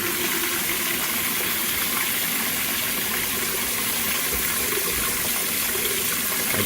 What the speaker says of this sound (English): So now we can go ahead and start to drain and take some of that pressure off the line